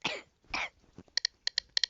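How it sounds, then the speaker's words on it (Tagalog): Two harsh coughs close together, followed by a few short sharp clicks in quick succession. "grabe yung may ubo ko"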